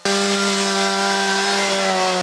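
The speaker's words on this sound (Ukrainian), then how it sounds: "аби потрапити всередину, заводять бензопилу" A chainsaw engine runs at steady high revs, loud and close, to cut into a flood-damaged shop whose door is jammed after river flooding, with no talk over it.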